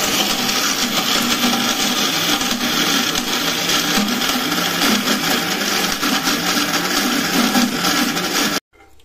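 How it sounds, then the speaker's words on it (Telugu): A mixer grinder blends peanut chutney with a loud, continuous whirring roar that runs steadily before cutting off abruptly at the end. "వేరుశనగకాయల పచ్చడి మిక్సీ పట్టుకుందామండి."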